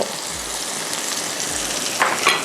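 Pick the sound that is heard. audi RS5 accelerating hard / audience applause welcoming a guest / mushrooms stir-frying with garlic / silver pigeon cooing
mushrooms stir-frying with garlic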